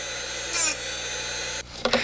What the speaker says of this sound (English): The drill bit is ground by the sharpening wheel each time you turn the chuck.